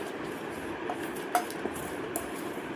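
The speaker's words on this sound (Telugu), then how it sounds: "ఇప్పుడు మొత్తం కలుపుదాం." Red chilli powder, ginger garlic paste and salt being mixed with gram flour and cornflour in a bowl for gobi manchurian batter, heard as faint scattered clinks and scrapes of a utensil against the bowl over a steady quiet background, with no talking.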